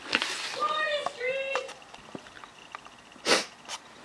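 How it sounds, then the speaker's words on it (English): A person sniffles indoors: a few short nasal sniffs near the start, then a sharper, louder snort-like sniff after a quiet pause, all close to the microphone. "I don't know why I'm sniffling"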